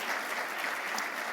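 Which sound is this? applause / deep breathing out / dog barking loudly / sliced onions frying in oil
applause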